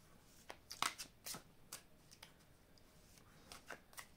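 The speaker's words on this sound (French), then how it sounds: "je vais prendre ici une carte de conseil" Fortune-telling cards are shuffled and drawn close by, quiet riffles and sharp flicks coming in uneven bursts with soft pauses between them.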